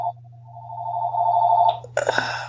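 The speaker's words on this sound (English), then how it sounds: "Can you hear the phone?" A telephone rings alone at moderate loudness, a steady electronic tone swelling over about a second and a half, then a short broken burst of ringing near the end over a low constant hum.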